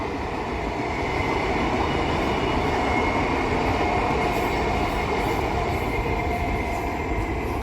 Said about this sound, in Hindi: अगर आप यहाँ देखेंगे तो ट्रेन भी जा रहा है।